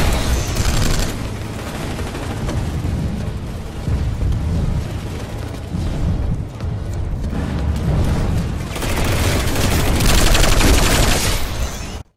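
Rapid continuous fire from the Pulsar LSW light support weapon in Planetside 2, dense and loud with chattering bursts layered over battlefield booms, swelling again near the end.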